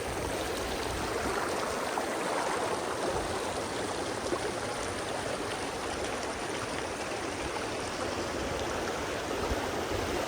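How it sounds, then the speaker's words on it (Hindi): A glacier meltwater stream rushes steadily down a Himalayan mountainside in rain and icy wind, a dense, continuous roar of water that stays constant throughout with no voices. "ये सारा ग्लेशियर का पानी है,"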